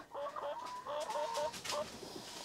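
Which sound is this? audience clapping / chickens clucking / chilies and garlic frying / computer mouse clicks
chickens clucking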